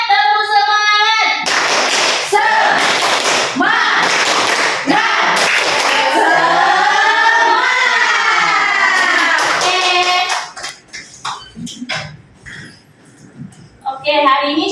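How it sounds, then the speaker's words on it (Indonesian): A classroom of students performs a rhythmic spirit clap, tepuk semangat, with bursts of patterned clapping mixed with loud group chanting. The sound then fades to scattered quieter noises. "Tepuk semangat."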